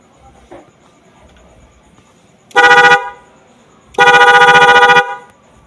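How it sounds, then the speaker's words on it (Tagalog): Dual Bosch horns on a Yamaha NMAX motorcycle honk loud and close in two blasts, a short one followed by a longer one, with quiet between. "ito yung audio check, yung dalawang busina"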